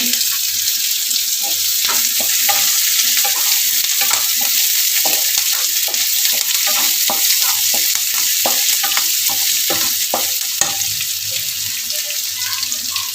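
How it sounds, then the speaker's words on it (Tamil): Chopped onions sauté in a hot pan for South Indian rava kichadi, with a steady bright sizzle throughout and frequent irregular scraping clicks from a spatula stirring them. "வெங்காயம் நல்லா வதங்கட்டும்."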